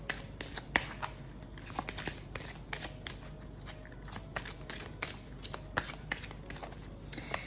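Tarot cards are shuffled by hand for a reading, a close, quiet run of riffling flicks and soft slaps in an irregular rhythm, heard alone with no talking.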